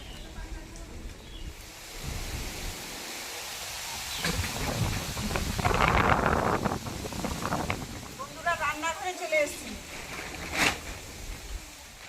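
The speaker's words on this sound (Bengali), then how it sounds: "আজকে বৃষ্টি আর বাতাস দুটোই একসঙ্গে হচ্ছে" Rain and wind outdoors, heard by someone carrying an umbrella on the way to a kitchen; a continuous broad hiss of rainfall and gusts that swells midway, with a voice speaking over it.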